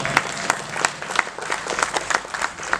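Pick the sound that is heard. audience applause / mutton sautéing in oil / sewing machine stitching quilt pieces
audience applause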